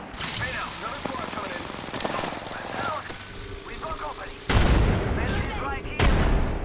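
Apex Legends gunfire: rapid bursts of shots and booms crackle throughout, swelling louder in the final seconds, mixed with game effects and an announcer-style voice.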